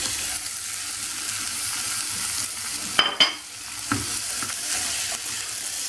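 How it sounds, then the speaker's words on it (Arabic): Pieces of chicken breast sizzle steadily in a pan with softened onion. A couple of sharp clatters and stirring sounds cut in midway, and no one speaks. "دابا غادي نزيد الطراف ديال الصدر ديال الدجاج."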